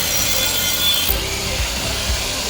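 Stone sculptures being drilled and carved by artisans in a Mahabalipuram workshop, a steady grinding, rasping tool sound running continuously and fairly close, with no talk.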